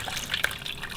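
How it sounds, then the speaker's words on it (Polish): Water from a tap or hose starts running at a small garden vegetable plot on a rural homestead, a soft continuous trickle and splash close by with no talking. "O, tutaj już woda leci."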